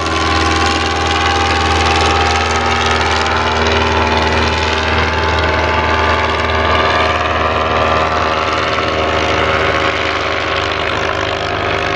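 A loud vintage aircraft piston engine of an Edwardian-era plane drones steadily and close by, a constant rough hum with no talking.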